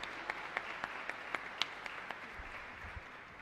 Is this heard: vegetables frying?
no